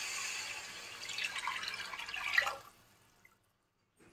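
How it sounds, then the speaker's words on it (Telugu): Squeezed tamarind juice poured into a pan of fish curry, a close liquid splash and trickle lasting a couple of seconds before tapering off into near silence with a single drip. "ఇప్పుడు పిసుకున్న చింతపండు పులుసును ఇలా వేసుకుందాం."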